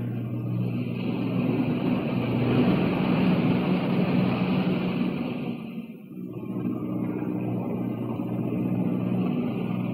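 Engines of an aircraft in flight, heard as a steady loud drone with wind-like rushing that dips briefly near the middle, then resumes, with no talking.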